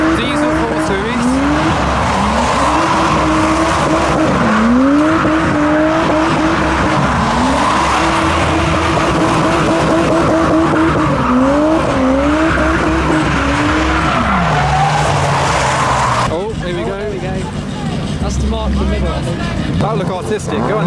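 A BMW 4 Series diesel and a Toyota Mark II drifting at a night event, with loud sustained engine wails rising and falling in repeated sweeps and constant tire squeal, close and harsh, with commentary talking over it.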